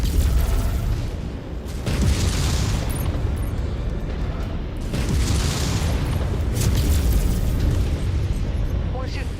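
Deep booming explosions roll out as targets are destroyed in MechWarrior 5: Mercenaries, two heavy rumbling blasts a few seconds apart over constant mech battle noise, with talk heard alongside.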